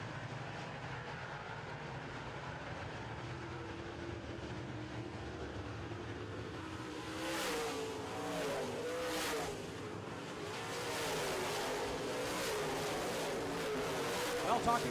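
Late model race cars roaring around a speedway oval during a feature race, a steady loud engine drone that swells as cars pass, with an announcer talking over it.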